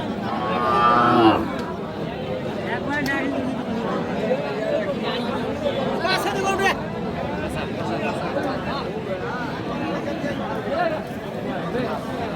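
A busy cattle market in Aftabganj is packed with cows and calves. Occasional moos rise over a continuous babble of crowd chatter and nearby voices.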